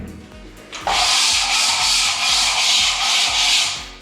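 A filling knife scraped across a plastered wall to knock off burrs: a close, loud, continuous rasping scrape starting about a second in and running steadily to the end, with no talking.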